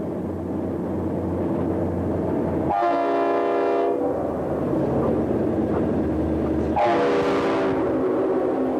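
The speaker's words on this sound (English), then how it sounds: "SD-45s, an F-45, and a GP-38 power this train" A diesel freight train powered by SD-45, F-45 and GP-38 locomotives rumbles steadily as its multi-tone horn sounds two loud blasts, the second one shorter, over the continuous rolling noise of the cars.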